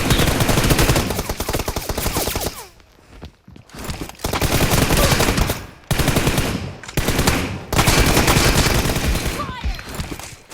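Automatic gunfire in the PUBG Mobile battle royale game, loud sustained bursts of rapid shots filling most of the stretch, broken by two short lulls before the firing resumes.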